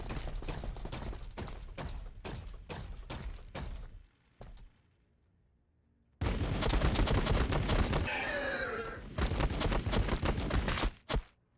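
Heavy gunfire from a Blood Angels versus Tyranids battle in Warhammer 40,000: Battlesector, sharp rapid volleys of shots, a pause of near silence, then a dense loud barrage with a whooshing burst before the final cracks.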